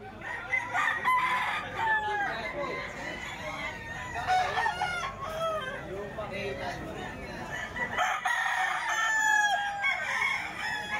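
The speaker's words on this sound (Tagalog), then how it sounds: "Ito mga manok pa to ni Boss Perry mga boss" Gamecocks crow repeatedly and cluck amid mixed people's chatter, several birds calling at close to medium range in overlapping bursts throughout.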